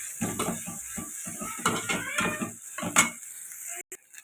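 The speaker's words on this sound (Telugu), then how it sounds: "అల్లం వెల్లుల్లి పేస్ట్ కూడా పచ్చివాసన పోయేదాకా ఇలా ఫ్రై చేసుకోవాలండి." Ginger garlic paste and onions fry in a pan for a chicken curry, with a close sizzle under repeated scraping and stirring strokes of a utensil against the metal.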